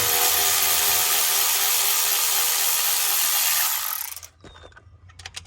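A power tool whirs steadily while undoing screws to remove intercooler piping during a car intercooler piping kit install, then stops abruptly, leaving a few sharp clicks and taps close by.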